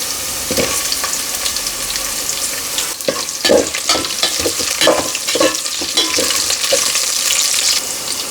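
Potato and eggplant pieces fry loudly in hot oil in a pan, a steady close sizzle broken by repeated scraping stirs and clatters from a utensil, with no talking.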